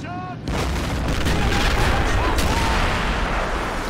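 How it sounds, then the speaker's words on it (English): A Katyusha rocket launcher fires in a video game set in April 1945. After a brief quieter moment, a sudden loud, sustained roaring whoosh bursts in and holds steady for several seconds. "Katyusha's firing"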